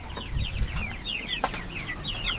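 Chickens in a free-range coop cluck and chirp steadily, several birds calling close by with soft overlapping peeps and a short sharp squawk midway.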